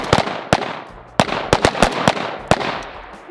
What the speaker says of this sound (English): The AK is my least favorite to shoot from prone.